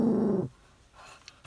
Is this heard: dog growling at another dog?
yes